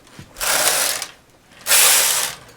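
A knitting machine carriage swishes across the needle bed twice, knitting rows of a chevron cable pattern in two loud, close, sustained metallic sweeps with a short pause between them.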